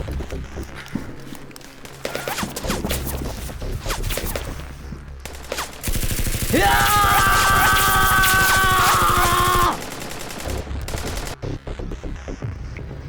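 Sustained automatic gunfire in a tense action scene, a dense loud burst lasting several seconds, set within a busy mix of movie sound, hoofbeat-like thumps and background effects.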